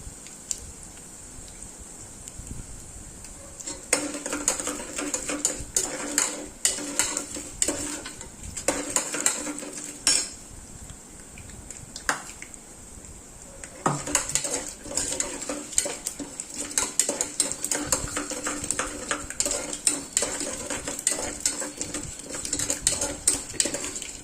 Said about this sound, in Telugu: వేసి పోపు బాగా వేగనివ్వాలి